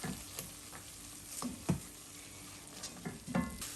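Black pepper roasts with red chilli flakes in a pan of sauce, a soft low sizzle broken by scattered spoon taps and scrapes against the pan, fairly quiet and close, without speech.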